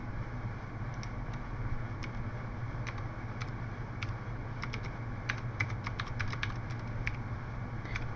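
Vim editing session on a computer keyboard: a run of quick, light key clicks in an irregular rhythm, some close together and some spaced apart, over a steady low hum, with no one speaking.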